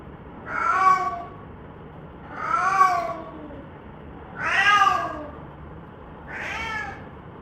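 Four insistent cat meows at an even pace, each rising then falling, close by with quiet gaps between them.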